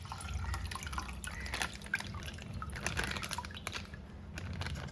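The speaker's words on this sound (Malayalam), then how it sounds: "1/2 ലിറ്റർ പാലിലേക്ക് നമ്മൾ അത്ര തന്നെ വെള്ളം ചേർത്ത് കൊടുക്കണം" Water trickles and drips steadily into milk in a pot, a faint continuous liquid splashing with small droplet sounds and no voices.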